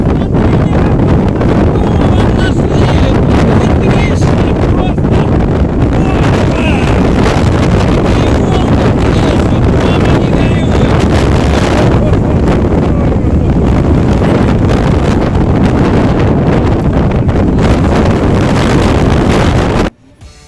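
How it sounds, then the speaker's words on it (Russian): Loud, constant wind roaring across the microphone over powerful crashing surf on the Turkish coast, with no letup for the whole stretch. "остановились вот посмотреть вот эти прекрасные мощные волны с вот таким шикарным ветром"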